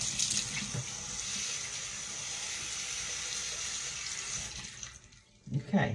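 Cool tap water runs steadily from a faucet while someone rinses their face after a home-made clay mask, a constant close hiss that ends in a few louder splashes.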